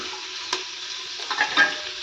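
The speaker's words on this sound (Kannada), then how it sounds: "ಹಸಿ ವಾಸನೆ ಹೋಗೋವರೆಗೂ ಚೆನ್ನಾಗಿ ಹುರಿರಿ" Green chillies and onion fry in a pan with a steady, dense sizzle, broken by a sharp scrape of a spoon around 0.5 seconds and a few softer stirring scuffs near the end; close and fairly loud, no voices.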